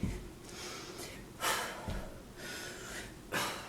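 Workout breathing during a strength and cardio exercise session: forceful, rhythmic inhales and exhales, close to the microphone, recurring roughly every second or two with short sharp breaths between, no speech.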